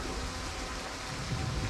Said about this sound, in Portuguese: Tá chovendo para um cacete.